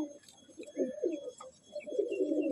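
A Madrasi Andhra pigeon coos at close range in a loft, giving a few soft, rolling low coos in quick succession with brief pauses between them.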